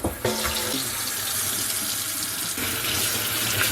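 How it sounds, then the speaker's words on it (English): Hot water runs steadily from a kitchen sink faucet and drains away after the sink has been unclogged, a continuous close hiss and splash that starts abruptly and carries on alone. "Now the moment of truth, we're going to turn on hot water."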